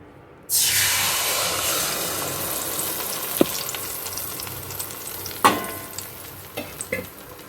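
Marinated hilsa fish drops into hot oil with a sudden loud burst of sizzling. The frying hiss then settles and runs steadily, broken by a few sharp pops and spatters.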